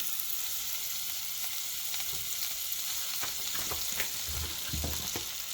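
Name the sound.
stirring onion cooking in a pot for Ethiopian doro wat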